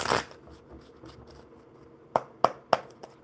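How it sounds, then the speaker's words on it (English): Playing cards being shuffled: a rapid riffle burst at the start, then a soft rustle and three sharp taps as the deck is squared, close by. "Imran, one more good shuffle."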